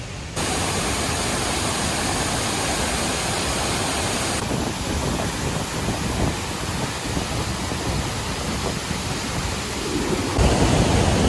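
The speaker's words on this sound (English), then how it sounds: "We're at a waterfall." Waterfall in Doi Inthanon National Park, a loud, steady broadband roar of falling water that stays constant throughout, heard close up with no voices.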